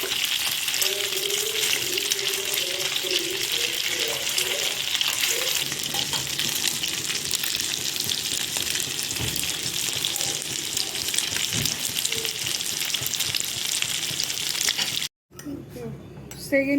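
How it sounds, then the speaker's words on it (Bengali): Chicken pieces deep-frying in oil for dry chili chicken, a dense steady sizzle and crackle held close throughout, with a few faint clinks before a brief cut near the end. "সেকেন্ড ব্যাচও ফ্রাই করা হয়ে গেছে"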